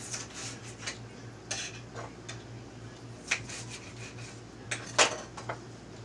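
A knife taps down through onions on a cutting board in a home kitchen, light irregular chops spaced a second or so apart over a steady low hum.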